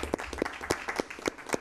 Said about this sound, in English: a thunderous round of applause for these amazing young people